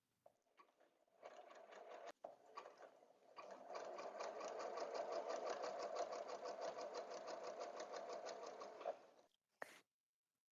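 A sewing machine runs a wide zigzag stitch joining the edges of quilt batting, a steady rapid whirring lasting several seconds after a few brief starts, close and clear with no talk.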